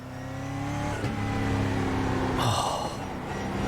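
A Brazilian Stock Car in the iRacing sim roars at high revs, then the throttle snaps shut and the exhaust crackles and pops with a burst of rough, sputtering bangs before the engine note settles.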